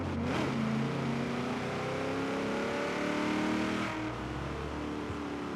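Chevy SS sedan in Forza Horizon 3, its engine revving steadily while it drives, loud and close with a smooth rising tone that eases off near the end.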